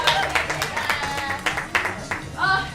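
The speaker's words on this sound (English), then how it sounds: "Give me a round of applause." Audience at an improv comedy show applauding, steady clapping with a few sharper hand strikes and some cheering voices rising near the end.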